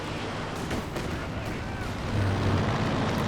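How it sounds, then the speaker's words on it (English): Werfer rocket artillery barrage in Company of Heroes 2, a dense rumbling wash of distant impacts and crackling blasts that swells louder near the end, with a voice speaking faintly underneath. "where is that second Werfer barrage coming from"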